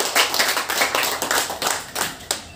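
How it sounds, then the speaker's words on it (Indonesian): A school audience at a junior high Scripture quiz claps in quick, uneven bursts, close and lively, for a couple of seconds with no talking. "Kita tepuk tangan untuk semua."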